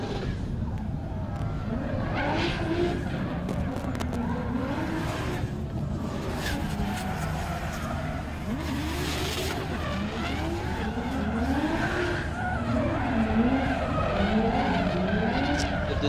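Drift car tires squealing through a Pure Drift run, a continuous wavering screech over a roaring engine, steady and loud, with commentary talking over it.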